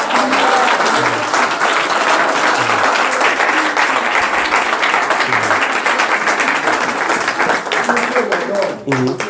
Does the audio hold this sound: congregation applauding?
yes